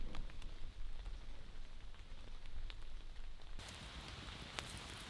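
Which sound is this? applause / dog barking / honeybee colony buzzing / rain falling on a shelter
rain falling on a shelter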